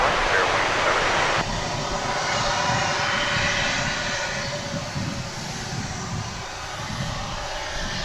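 An airliner takes off from runway 17 at DFW International Airport, a loud sustained jet engine roar that dips slightly and steadies as it continues, with wind noise alongside.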